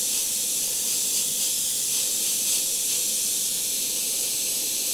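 An airbrush sprays orange paint as part of a painted fire effect, giving a steady, even hiss that runs unbroken and fairly close throughout, with no talking.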